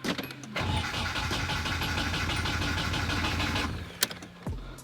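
Starter cranking a Nissan 240SX turbo engine with the fuel pump off, a steady rhythmic churning for about three seconds that then stops, followed by a sharp click and brief mechanical noises.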